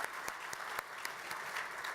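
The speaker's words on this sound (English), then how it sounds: "you can clap on that" A crowd claps steadily in a room at a housing nonprofit welcome event, a dense patter of hands at moderate volume with a few louder claps standing out.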